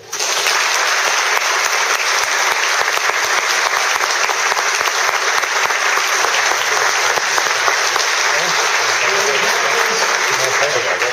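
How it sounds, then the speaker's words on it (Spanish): Sustained, loud applause from an audience at a Galician Letters Day commemorative event, a dense wash of clapping holding steady throughout with no break. "me gustaría que le diéramos un fuerte aplauso a todos"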